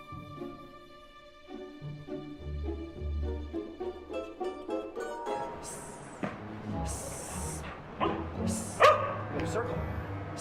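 A dog on a film set barks and yips in short bursts amid people talking, with bright sharp sounds near the end.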